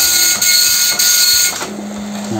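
An Epson LQ-2190 dot matrix printer running a test print, producing a loud, steady high-pitched buzzing whine with a brief break and a few soft clicks before the tone shifts lower near the end.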